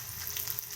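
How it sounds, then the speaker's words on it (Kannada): A chitranna tempering sizzles and crackles briefly in hot oil, a close, steady frying hiss without talk. "ಅದೇ ರೀತಿ ಒಗ್ಗರಣೆ ಹಾಕೋದು"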